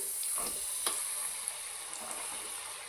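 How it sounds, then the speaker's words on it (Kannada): Potato finger chips with a popcorn coating fry in bubbling oil, giving a steady, low sizzling hiss with a few faint pops and ticks, with no voices. "ನೋಡಿ ಇದು ಗುಳಿ ಗುಳಿ ಬರ್ತಾ ಇದೆಯಲ್ಲ ಇದೆಲ್ಲ ಕಡಿಮೆ ಆಗುತ್ತೆ ಕಡಿಮೆ ಆದಾಗ ಫ್ರೈ ಆಗಿದೆ ಅಂತ"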